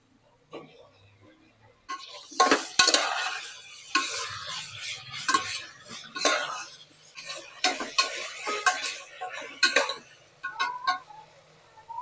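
Golden-brown onions and tomato for prawn biryani sauté in a pan, with a soft sizzle under repeated scraping and clinking strokes of a spoon against metal, coming in irregular bursts with short pauses between.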